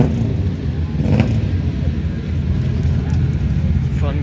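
A Suzuki Swift race car drives at the Nogaro circuit in a French HTCC touring car event, its engine a low, rumbling drone that swells and fades beneath steady commentary.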